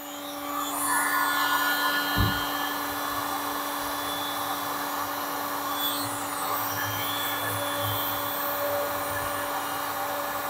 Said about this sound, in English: Heat gun online.